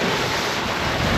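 High ocean waves and strong gusting wind in the middle of the Atlantic aboard a sailboat, a brief, loud, unbroken rush of surf and buffeting wind on the microphone.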